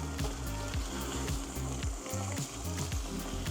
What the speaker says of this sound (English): Sear the Branzino fish fillets for 2 to 3 minutes